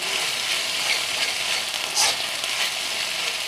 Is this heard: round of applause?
no